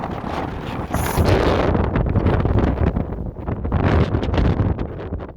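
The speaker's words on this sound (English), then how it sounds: "It's like the gusts have gotten even stronger." Heavy wind on the summit of Mt. Katahdin buffets the microphone in loud, continuous roaring gusts that surge and ease, with no voices.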